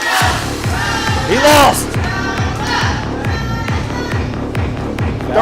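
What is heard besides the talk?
crowd cheering at a wrestling event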